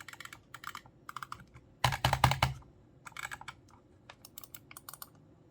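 Rapid bursts of crisp clicking from a Roccat Kone Pro Air wireless mouse with Titan optical switches, close and dry, with irregular clusters and a denser flurry partway through, no talking.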